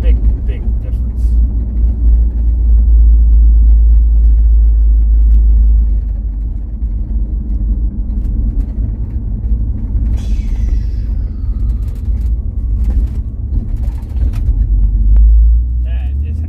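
A car engine with dual exhaust joined by an H-pipe runs with a deep, steady, close rumble that swells and eases slightly, while a person talks over it.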